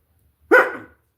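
A person with Tourette's lets out a single short, sharp vocal tic imitating a dog's bark, close and loud, alone in an otherwise quiet moment.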